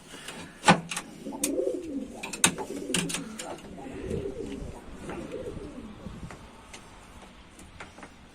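Pigeons coo softly in a coop in Mardin, with low rolling calls repeating through the clip, broken by sharp clicks and wing or perch knocks, and faint voices in the background.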